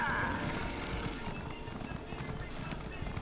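A horse in a video game gallops with quick, even clip-clop hoofbeats and gives a short whinny at the start, fairly quiet and continuous.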